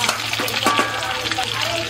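Carrots and green chilies tip into hot oil with mustard seeds, nigella and fennel, setting off a steady close sizzle and frying crackle with a few stirring scrapes, no voices.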